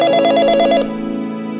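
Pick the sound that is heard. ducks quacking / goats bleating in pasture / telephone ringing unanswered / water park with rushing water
telephone ringing unanswered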